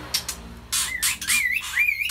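A Javan bush lark calling nearby in a sequence of bright, rising whistled chirps and rapid trills, repeated several times.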